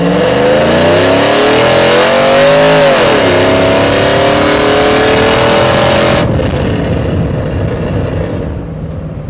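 A cammed Chevrolet Silverado with a 5.3L V8 and longtube headers accelerates hard, a loud, raspy engine note climbing in pitch, dipping briefly at a shift, then cutting off into fading exhaust rumble; no talking.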